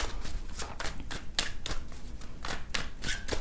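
A deck of tarot cards is shuffled by hand in a quick, repeated riffle, each pass a crisp burst of papery flutter in steady rhythm, close and alone with no talking.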